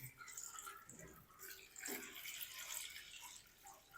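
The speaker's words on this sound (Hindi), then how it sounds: "चलें, अब हम इसमें शामिल करेंगे पानी।" Water poured from a glass into a kadhai holding daal mash for cooking, a steady splashing, trickling stream close by that swells midway and runs on for several seconds with no talk.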